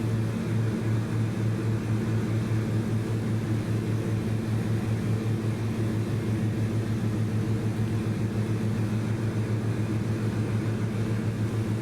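Steady, loud drone of a King Air 350i's twin turboprop engines in the Prepar3D flight simulator, an unbroken hum with no voices over it.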